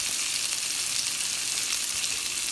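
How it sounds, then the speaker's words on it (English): Vegetables with a handful of parsley sautéing in a pan, a soft steady hiss of sizzling that runs evenly throughout without any talk over it. "Let this saute down."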